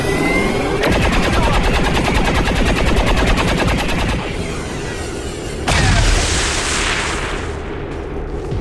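Sustained gunfire from the video game XCOM 2 rattles loudly in a rapid automatic burst for several seconds, then gives way to a heavy blast and a noisy rumbling tail.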